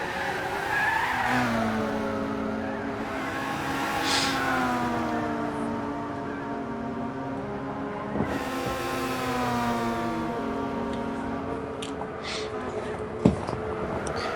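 Race cars in a Gran Turismo endurance race at Tsukuba circuit, engines droning steadily with rising and falling pitch as they accelerate and shift, tires squealing through corners, continuous and fairly loud without talk.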